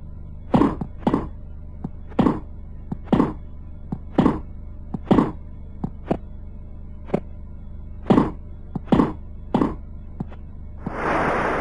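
Retro Super Nintendo Super Tennis game sounds: a steady run of about a dozen hollow, punchy ball-hit thunks, ending with a brief hissy burst like crowd noise.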